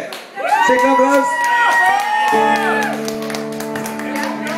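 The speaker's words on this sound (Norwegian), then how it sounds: "Skikkelig applaus!" Live audience clapping and cheering for a guest performer joining the stage, loud and sustained, with shouts and sustained musical tones underneath.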